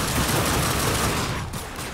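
Loud, rapid gunfire from a weapon in The Darkness II, a dense continuous burst of shots that barely lets up for nearly two seconds, close and harsh with no talking.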